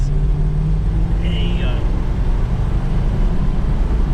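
Loud, close engine rumble from a 1964 Chevrolet Bel Air held at full throttle on its carburetor, a steady deep drone with a brief higher whine partway through.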